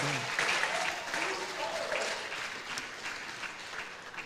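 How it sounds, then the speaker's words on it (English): An audience at a talk claps in steady applause that slowly fades, with faint voices audible beneath it. "Please, can we give him another round of applause?"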